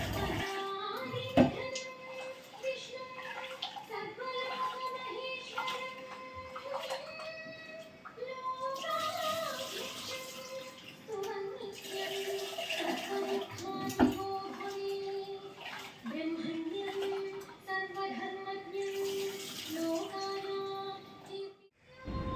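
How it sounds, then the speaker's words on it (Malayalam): Rice is washed in a pot of water before cooking in a home kitchen, with close, intermittent swishing and splashing as hands stir the grains, and faint voices in the background. "ഇനി അരി കഴുകുകയാണ് അടുപ്പത്തിടാനായിട്ട്"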